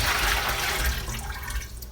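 Whey poured out of a cheesemaking pot, a continuous rushing splash of liquid that tapers off toward the end, heard alone without speech.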